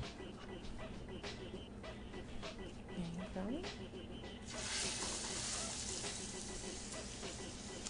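Chorizo burgers sizzle in a hot oiled pan, a quiet steady frying hiss that grows louder and fuller partway through, with a voice talking over it.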